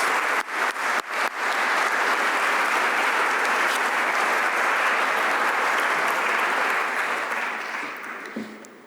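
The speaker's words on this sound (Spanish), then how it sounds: "Me permito solicitar un gran aplauso" A lecture audience breaks into a long round of applause, opening with a few scattered claps before swelling into dense, sustained clapping that fades gently near the end.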